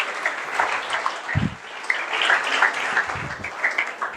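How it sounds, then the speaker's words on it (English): Audience applause at a magic show, a steady wash of clapping that fills the room for a few seconds with brief low thumps underneath. "Give Myron one more round of applause, please."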